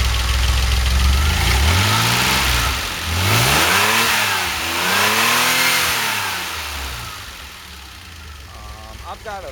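A DeLorean fitted with zero ohm spark plugs runs close by, its engine idling and revving up and down in loud, smooth sweeps before settling toward a steady idle.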